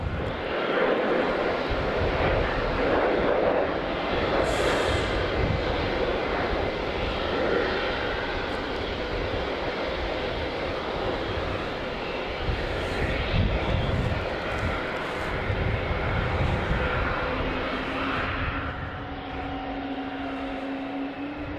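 A jet airliner, an American Airlines departure, roars steadily while taking off from Logan Airport at night, a broad continuous engine rumble that stays loud and near for the whole stretch, with no talking over it.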